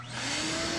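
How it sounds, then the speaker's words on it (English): A vacuum cleaner sucks debris out of the pilot area of an AO Smith water heater, a loud steady whine and roar heard close up, with no talking. "I'm not gonna shine you down there while I'm doing this vacuuming."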